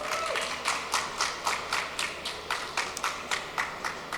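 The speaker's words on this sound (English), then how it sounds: "Let's give them a round of applause." Applause from a conference audience at a tech and startup event, a steady run of claps with a fairly even rhythm heard from a distance at moderate volume, with no talk over it.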